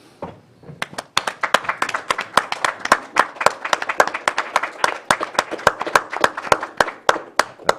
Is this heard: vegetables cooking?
no